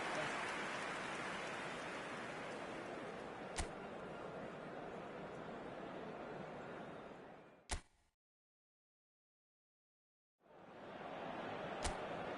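Heavy rain falls steadily in the eFootball match on PS5, a dense continuous downpour with a few sharp clicks, then a brief drop to silence before the rain resumes.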